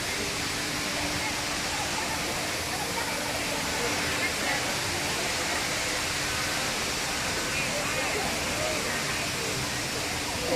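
A waterfall at a temple gives a steady, dense rush of falling water, even and unbroken, with a voice faintly present beneath it.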